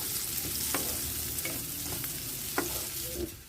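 Finely chopped carrots frying lightly in a pan for vegetable fried rice give a steady, close sizzle, with a few soft scrapes and clicks of stirring spaced across it.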